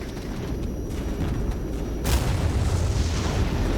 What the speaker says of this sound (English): Oh, big bombs coming through.